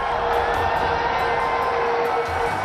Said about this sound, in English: Delight for the crowd.